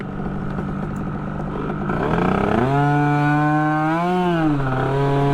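Street-tuned Yamaha Aerox scooter under throttle, its engine note climbing into a loud, close, rising whine with strong harmonics that swell and dip as the rider rolls on and off, alone with no talk.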